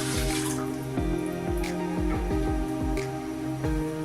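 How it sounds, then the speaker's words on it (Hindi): Water runs and splashes steadily from a tap into a pressure cooker pot for rice and lentils, with faint clinks and knocks throughout, close by. "इसमें हम पानी डालेंगे"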